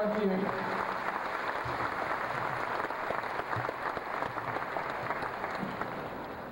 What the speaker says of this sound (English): how about a round of applause for our young volunteer?